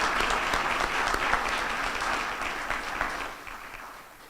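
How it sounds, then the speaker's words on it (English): Audience at a medical school white coat ceremony applauds the incoming class, a continuous wash of many hands clapping in a hall, steady then tapering slightly. "I'd like to ask you to join me in giving another round of applause for our May"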